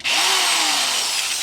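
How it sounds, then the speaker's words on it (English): A power drill whines loudly as it bites into metal on a Mazda Miata being rebuilt, its pitch sliding slightly downward over one short, sustained burst. "let's go ahead and drill those out"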